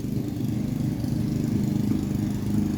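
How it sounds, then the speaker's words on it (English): A lawn mower cutting grass hums steadily at moderate distance, a continuous low engine drone with no voices over it. "Got a guy mowing his grass."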